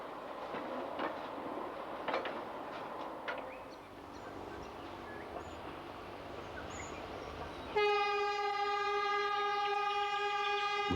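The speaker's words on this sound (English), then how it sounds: "Rattling its way along the original state sawmill line, the Pemberton tramway takes passengers on an unforgettable journey deep into the dappled world of the Karri Kingdom." Pemberton tramway train rattling along the original state sawmill line through karri forest, a steady rumble with clicks, then a sustained harmonic horn blast that holds loud from about eight seconds to the end.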